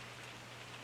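Rain falls steadily on a trailer roof, a dense, even hiss of patter lasting under a second at low volume, with a faint hum underneath and no talking.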